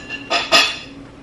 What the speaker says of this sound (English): All that noise in the background is my kids are eating breakfast